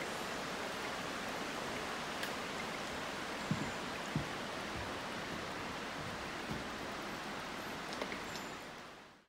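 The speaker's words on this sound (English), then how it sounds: "You can hear the flowing water." Water flows along a forest hiking trail near Skagway as a steady, soft broadband rush, faint and continuous, with a few small knocks and taps.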